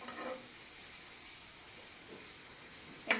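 Carrots fry in a pan for carrot halwa, giving a soft, steady sizzle and hiss close by, with a light stir near the start and a sharp scrape at the end.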